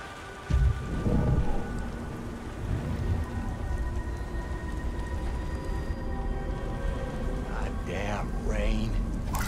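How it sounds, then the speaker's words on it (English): Steady rain with rumbling thunder in the video game Beyond: Two Souls, a continuous wash of rainfall with low booms throughout, while voices talk over it near the end. "rain."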